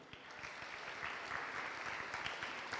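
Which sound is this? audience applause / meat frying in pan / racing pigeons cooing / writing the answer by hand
audience applause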